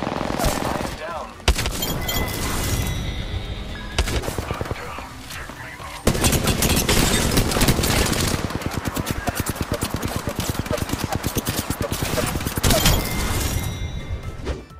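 Sustained gunfire in Apex Legends on Kings Canyon, loud close bursts that become a rapid steady automatic stream in the second half, with game sounds and faint voices underneath.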